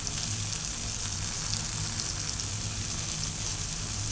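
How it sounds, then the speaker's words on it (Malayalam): Ripe plantain slices sautéing with sugar and cardamom in a hot pan give a steady, close sizzle and soft frying hiss, with faint stirring beneath it throughout. "നന്നായി ഇളക്കിയിട്ട് ഇതൊന്ന് വാട്ടിയെടുക്കുക"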